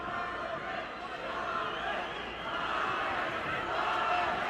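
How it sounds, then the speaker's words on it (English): A boxing arena crowd at a Ryan Garcia fight roars and chants his name, a dense, sustained wall of cheering heard from a distance and rising slightly toward the end. "They're cheering his name."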